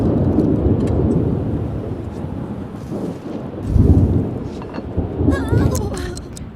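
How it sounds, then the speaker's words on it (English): Steady rain and rolling thunder in The Sims 3, with a dense wash of downpour and a deeper thunder swell partway through. Some brief game chirps sound near the end. "It would start raining on the day she gets to leave her house."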